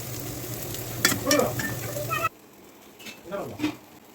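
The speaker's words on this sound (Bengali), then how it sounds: "বেগুন ভাজতেছি, একদিকে খাচ্ছে আর একদিকে আমি ভাজছি।" Oil sizzles loudly as eggplant slices fry in a pan, with stirring clatter and a voice speaking, then the sizzle drops away to quieter clinks.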